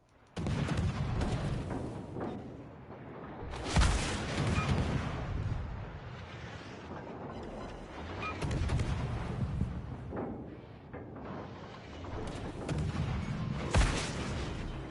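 Naval gunfire and missile hits in the World of Warships: Legends video game: repeated heavy booming salvos and explosive impacts rumbling continuously, with sharp bursts near the start and the end and no talk.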